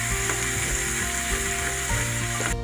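Chopped tomatoes fry in a prawn masala in a pan, giving a steady, even sizzle close up. It runs loud and unbroken for a few seconds with no voices.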